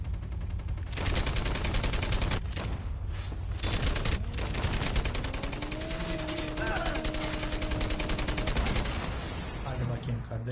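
Sustained automatic gunfire in the mobile shooter game Call of Duty Mobile, with rapid bursts rattling on for several seconds at close range under busy game effects and a few tonal sound cues.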